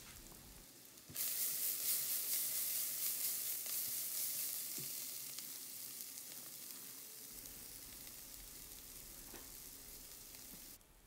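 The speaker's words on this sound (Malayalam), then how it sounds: "ഇപ്പോൾ ഈ ഉള്ളിയും പുളിയും മസാലക്കൂട്ടും എല്ലാം കൂടി ചെറുതീയിലൊന്ന് നന്നായിട്ട് തിളച്ചിട്ടുണ്ട്" A steady, close hissing bubble of tamarind sambar with onions and spice mix simmering on low heat, starting abruptly and continuing evenly, with faint stirring clinks and no voices.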